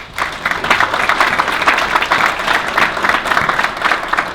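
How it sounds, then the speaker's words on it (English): Sustained audience applause at a family business awards event in Glen Ridge, New Jersey, dense steady clapping filling the whole stretch with a faint murmur of the crowd underneath. "Give them a round of applause."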